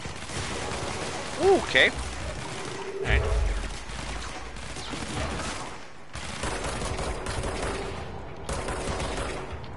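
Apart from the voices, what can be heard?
gunfire from a video game (Control)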